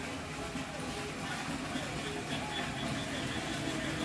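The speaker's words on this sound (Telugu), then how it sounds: "ఇవన్నీ ఏదో జలపాతం హోరు లాగా వినిపిస్తుంది కదా" Floodwater pouring into a household well after a flood, a constant low roar like a waterfall, dense and unbroken throughout with no clear speech over it.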